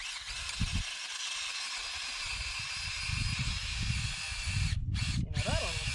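A DeWalt hammer drill grinds steadily and loudly through the whole stretch, a continuous close drilling roar with brief cut-outs near the end and low rumbling bumps beneath it.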